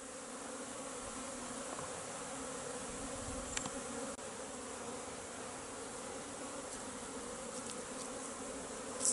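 Dense, steady buzzing of many honeybees at a beehive infested with varroa mites, a continuous close hum with occasional brief knocks and clicks.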